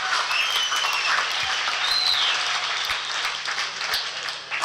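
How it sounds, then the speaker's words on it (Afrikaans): Audience applause at an off-road racing year-end awards ceremony at Perdehoek, a steady round of many hands clapping in a room that carries on evenly and then begins to thin toward the end, with no voices over it. "klap vir ons 'n groot hande klap."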